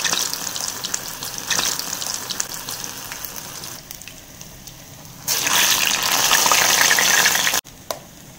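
Urad dal vadai frying in hot oil, a steady close sizzle that swells louder when fresh batter drops in, ending with a brief clatter.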